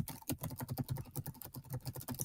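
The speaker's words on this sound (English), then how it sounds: "I'm going to do a little bit more typing real quick" Fast, steady typing on a computer keyboard, close and quiet, with rapid clicking keystrokes and no voices.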